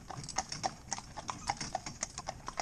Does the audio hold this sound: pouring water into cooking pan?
no